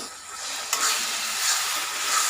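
Chopped tomatoes hit a hot frying pan for a chicken dish, giving a loud, steady sizzle with a sharp hiss as they land, and stirring continues without talk.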